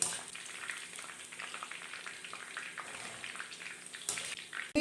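Boondi batter drops frying in hot oil for laddu, giving a steady, soft bubbling sizzle throughout, fairly close and moderately quiet, with no talking.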